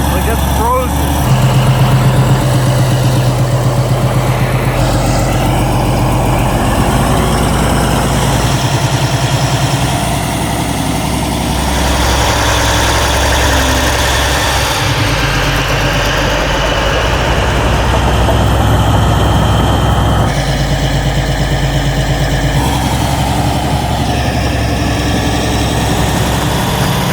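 A bulldozer engine rumbling loud and steady while it tears up frozen, icy ground, continuous and close, with people talking over it.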